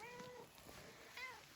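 A stray cat on a flower farm homestead gives a couple of faint, thin meows, soft and somewhat distant against quiet outdoor background.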